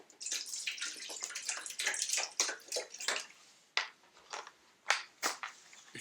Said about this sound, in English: I have to refill the water dispenser here.